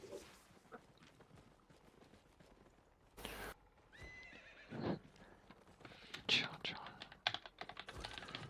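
A horse in a video game neighs as the rider mounts, with hoof clip-clops and quick keyboard typing scattered through a quiet, busy mix of game sounds.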